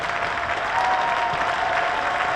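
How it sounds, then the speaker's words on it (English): Cricket crowd cheering and applauding as Hampshire win a one-day cup quarter-final against Worcestershire Rapids, a steady broad wash of sustained applause and cheers, loud and continuous throughout. "And listen to the crowd"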